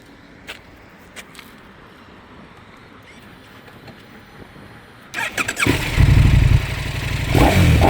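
A tuned KTM 1290 R gen 3 motorcycle is quiet at first, then its engine fires up after about five seconds into a loud, rough, close running roar with a brief revving swell near the end.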